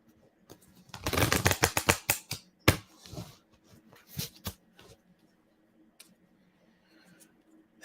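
Tarot cards are shuffled by hand in a quick run of crisp riffling snaps. Scattered taps and card flicks follow, at close range and with no voice.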